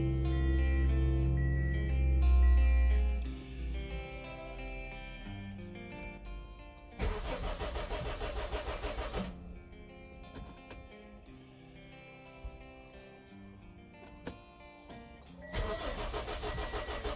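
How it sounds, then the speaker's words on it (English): A Honda CR-V engine with a faulty distributor igniter cranks in a few separate bursts without starting, with a low mechanical rumble between attempts. Close and fairly loud, no voices. "So let's crank the engine and hopefully rev it up."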